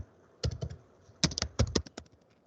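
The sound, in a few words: typing a password on a computer keyboard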